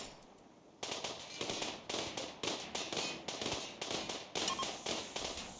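A RimWorld mechanoid's unstable incendiary weapon cells detonating, a rapid string of sharp crackling pops about every half second, loud and close, after a quiet opening moment.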